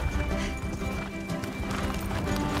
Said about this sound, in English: We already see Anne riding a horse from the very beginning.